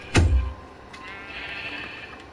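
A single loud sheep bleat from the video game Minecraft opens the clip, short and close, followed by a quieter stretch of game ambience with no talking.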